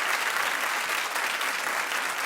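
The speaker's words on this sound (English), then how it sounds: "Clap if you are telling her don't do it." Studio audience at a daytime talk show breaks into steady, dense applause, loud and close, holding evenly throughout with no voices over it.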